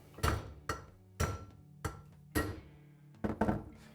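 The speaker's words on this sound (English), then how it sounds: "use our hammer to drive it out." A hammer strikes repeatedly to drive a worn ball joint out of a Polaris UTV, about seven sharp metallic blows at an uneven, steady pace, close and clear with ringing after each hit.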